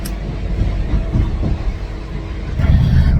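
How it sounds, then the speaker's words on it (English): Rumble of a passenger train running on rails, a steady low rolling drone with rhythmic low thumps, fairly loud and continuous with a louder swell near the end, no voices. "So on our second train now"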